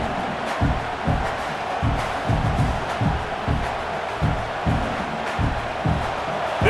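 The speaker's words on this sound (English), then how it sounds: "This crowd bringing the energy and noise early" A stadium crowd in the EA College Football 26 video game, a continuous loud roar swelling in regular rhythmic surges like chanting, with no clear talk over it.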